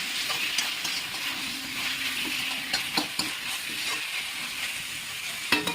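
Steady sizzling of chicken sautéing in a pan, with occasional stirring clatter and scrapes, close and continuous without any talk.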